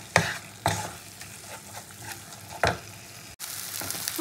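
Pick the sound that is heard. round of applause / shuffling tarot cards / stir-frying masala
stir-frying masala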